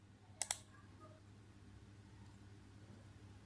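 Two quick, crisp computer mouse clicks close together, pressing an OK button, then near silence with faint background hum.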